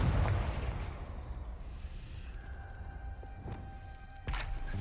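A Confringo fire-spell blast in the Hogwarts Legacy video game: a booming explosion with a long rumbling decay, followed by a smaller pop near the end, loud and close with no talking.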